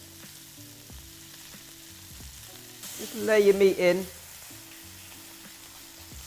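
Beef with its fat left on is laid into a hot oiled pan and bursts into a loud, crackling sizzle that swells for about a second before settling. Quiet music plays underneath, and someone speaks briefly just before the meat goes in.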